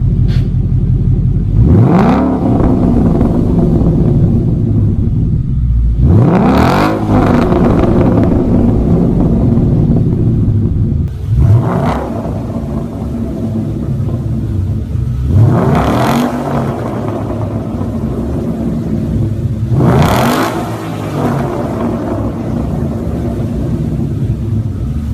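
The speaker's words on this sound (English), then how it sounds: "I'll put a clip of what my old Mustang sounded like right here." A Mustang GT V8 with a catback exhaust roars through five repeated revs, each rising sharply then falling back to a deep rumble, loud and close with some wind buffeting.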